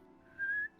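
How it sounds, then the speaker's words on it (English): A person gives a single short, clear whistle to call a companion, a steady high tone lasting under a second against quiet room noise. "She whistles at one of her companions."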